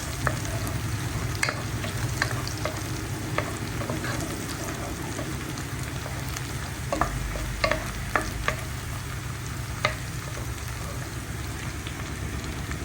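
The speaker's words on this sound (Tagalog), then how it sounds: "At halu-haluin lang natin ang ating sibuyas." Onions sizzle in a frying pan while a utensil stirs them, with scattered scrapes and taps over the continuous crackle.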